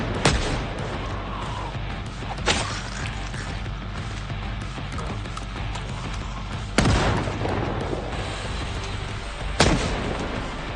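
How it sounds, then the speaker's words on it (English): Four booming shotgun blasts from Project Zomboid Build 42 fire at uneven intervals, each a sharp, loud crack standing out over a steady low rumble of game ambience. "Shotgun, weapons free."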